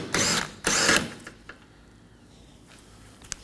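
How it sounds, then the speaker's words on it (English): Two quick bursts of ratchet clicking as a 15mm socket loosens a wiper arm fastener on a Ford Transit Connect, close and fairly loud, then quiet with a faint click or two. "Remove this fastener using a 15mm socket."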